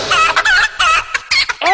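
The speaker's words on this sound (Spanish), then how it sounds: "Este es el gallo." A rooster calls loudly and close with bright, strained bursts broken by short pauses, clucking and crowing in quick succession with no talk over it.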